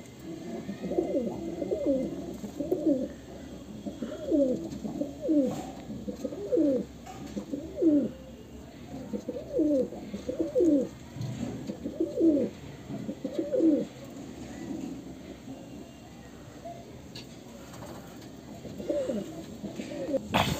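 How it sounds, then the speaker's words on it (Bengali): A breeding pair of pigeons, a black kokila mada hen and a jiria male, coo repeatedly in soft, rhythmic throaty phrases, close by and fairly quiet. "কালো কোকিলা মাদা পায়রা এবং জিরিয়া নর"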